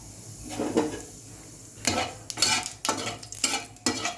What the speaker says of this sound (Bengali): এই দেখো জিরে দিলাম পুরো